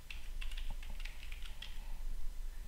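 Someone typing a password on a computer keyboard: a quick run of light, close key clicks in an irregular rhythm, fairly soft, with no one talking.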